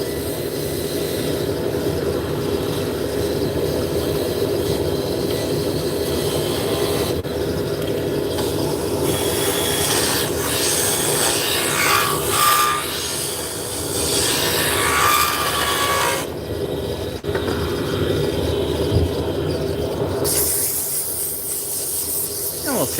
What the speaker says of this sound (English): We'll sand her out.